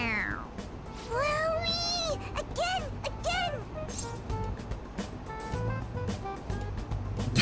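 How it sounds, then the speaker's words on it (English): A stuffed toy cat in the Persona 5 Royal video game lets out several clear, rising and falling meows in quick succession, mixed with game voices and background sound. "It meows when you press on its head."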